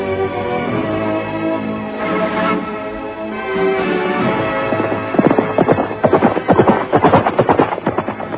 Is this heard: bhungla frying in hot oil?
no